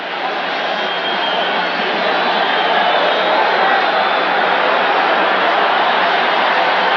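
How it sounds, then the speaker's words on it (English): Stadium crowd at a Monday Night Football game between the Dallas Cowboys and Washington Redskins, a constant roaring wash of distant cheering on a muffled broadcast feed, steady and unbroken. "This crowd is having fun tonight."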